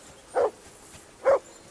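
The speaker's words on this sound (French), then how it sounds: "Ces aboiements vont me rendre fou!" Two sharp, loud dog barks spaced about a second apart inside the video game Kingdom Come Deliverance 2, standing out clearly against a quiet background.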